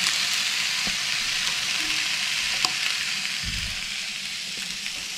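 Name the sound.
dorado fish sizzling on an Optigrill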